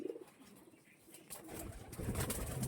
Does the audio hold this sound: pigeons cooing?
yes